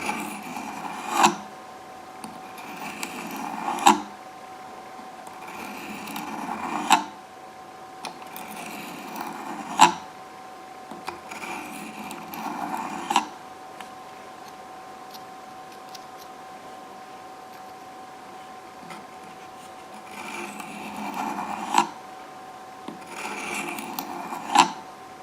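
Steel knife blade stroked across an oiled sharpening stone, working the second side in repeated rasping passes in a few clustered bursts with quiet pauses, close and fairly soft.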